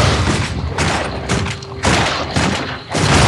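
Torchlight 2 gameplay of shooting at a base, with dense, loud bursts of booming gunfire and impacts in rapid succession, separated by brief dips and then resuming heavily.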